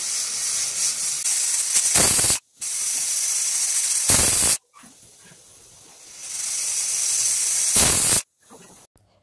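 A pressure cooker used to boil sweet corn in salted water vents steam in loud, continuous hissing bursts, several long stretches broken by abrupt silences, with no talking.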